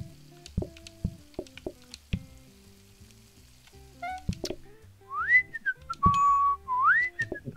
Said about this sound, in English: That whistle every time.